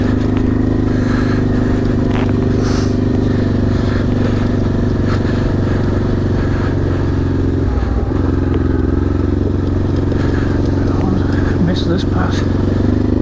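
A Honda Transalp XL600V motorcycle rolls along on a short ride, its engine droning steadily and loudly close up with some rattling and wind, while a rider talks briefly over it.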